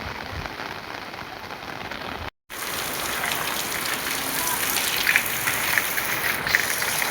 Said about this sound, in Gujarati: જો હજી તો વરસાદ આવે જ છે